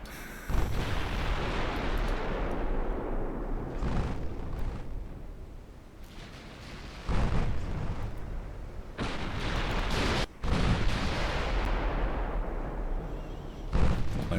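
Heavy 15-inch naval guns boom in a British classic naval campaign game. Several loud, deep salvos land a few seconds apart over a constant rumble of battle.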